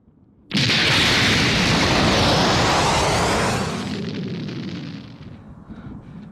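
A loud, sudden roaring anime energy cannon blast bursts in and sustains for several seconds, then slowly fades into a lingering rumble.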